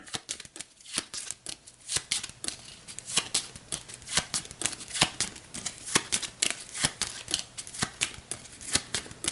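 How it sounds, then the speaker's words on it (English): The Automa card deck for a Terra Mystica game gets shuffled in a run of crisp, riffling card snaps repeating in quick bursts, close and clear with no talking. "So we'll rebuild the Automa deck, shuffle that up."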